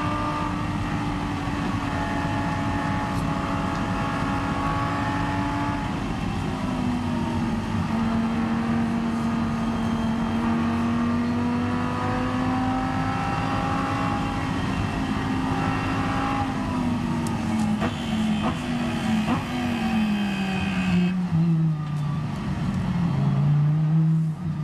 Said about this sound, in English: So you're on board the Audi, and this is what it's like from on board around Spa.